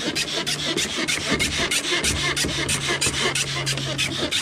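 Gelcoat being wet-sanded by hand with sandpaper to knock down guide coat, a steady run of close, rhythmic rasping strokes repeating back and forth with no talk.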